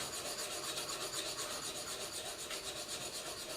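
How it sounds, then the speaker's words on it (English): A butcher steel scrubbed back and forth with an abrasive during repair, producing a continuous, even rasping rub with a fast steady rhythm, close and alone. "then just find each mark that we've put in there and then just scrub back and forth"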